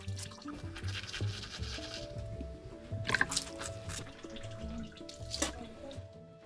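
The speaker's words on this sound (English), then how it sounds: "Aryan starts his morning by washing his face and brushing his teeth with ice water" Ice water running and dripping as someone washes their face and brushes their teeth in a freezing Yakutia home, with soft splashes, trickles and a few sharper drips up close.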